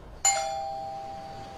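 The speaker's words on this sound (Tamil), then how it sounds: "காலையில் 5 மணிக்கு காலிங் பெல் அடிச்சிச்சு." A doorbell rings once in a Tamil thriller, a clean electronic ding that starts sharply and then rings on with a long, even decay through a quiet room. Nobody speaks.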